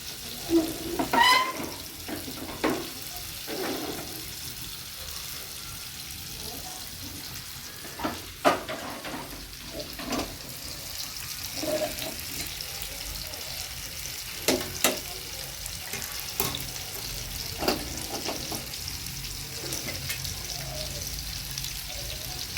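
Bombil fish fries in a pan with a soft continuous sizzle, broken by occasional clinks and stirring taps and some water-like running noise, moderately quiet and without talk.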